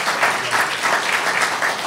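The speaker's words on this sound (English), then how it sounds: "Let's give them a round of applause," Steady applause from a conference audience thanking a panel of speakers, a dense even patter of many hands clapping throughout with no one talking over it.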